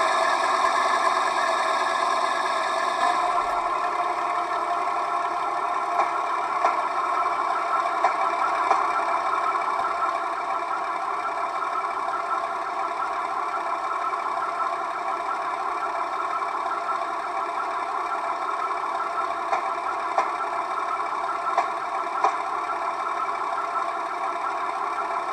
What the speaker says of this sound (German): Als nächstes gibt es eine Anfahrt mit Motorsound im aktivierbaren Leerfahrtmodus. Damit hört man die zuschaltbaren Schienenstoßgeräusche am besten.